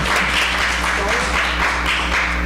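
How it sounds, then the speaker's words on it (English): An open mic coffeehouse audience applauds a performer, with moderately loud clapping from a small crowd in pulsing bursts, mixed with some voices. "Give her a big round of applause."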